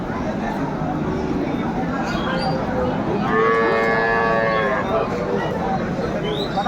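Dairy cows and calves at a rural cattle market give one drawn-out moo partway through, rising over a constant din of crowd chatter and nearby talking.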